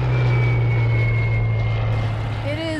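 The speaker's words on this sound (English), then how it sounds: "It is the most famous plane from World War II." A World War II propeller fighter plane flies close and loud, its engine holding a steady, droning hum with a faint high whine throughout, then the pitch bends slightly near the end.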